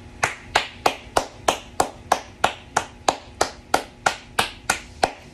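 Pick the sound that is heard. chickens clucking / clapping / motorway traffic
clapping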